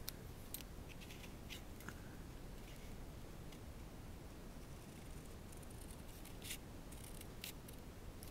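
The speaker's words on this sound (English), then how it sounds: "So I'll cut it where this red border is." Scissors snip through the paper cover of a tea bag mini album, giving a quiet run of short crisp cuts that come every second or so over a steady hiss of background noise.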